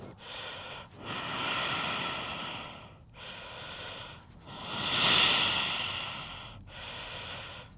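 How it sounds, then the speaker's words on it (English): Slow, deep cycled breathing during stretching with a six-foot staff, close to the microphone: four long, airy breaths in an even rhythm separated by short pauses, with no talking. "And it's cycled breathing."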